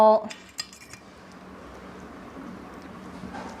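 Pork and bamboo shoots being tossed with vegetables in a large tray, with a few sharp clinks of utensils on metal at the start, then soft rustling and scraping continuing quietly through the rest.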